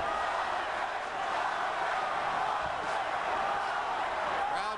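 A large boxing arena crowd at De La Hoya vs Vargas roars and chants for Vargas in a steady, dense wash of voices that fills the space evenly from start to end.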